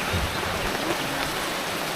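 Steady, hissing rain falling continuously, even and moderately faint, with no voices or other distinct sounds.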